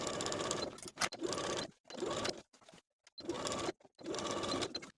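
A sewing machine stitches a waistband onto a skirt in several steady, close whirring runs, stopping and restarting with short quiet gaps in between, with no talking.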